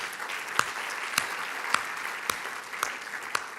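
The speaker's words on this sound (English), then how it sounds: "Can we give ourselves a round of applause?" A small audience claps at a conference's closing remarks, a fairly quiet, even patter of hands with a few sharper, louder claps standing out near the listener.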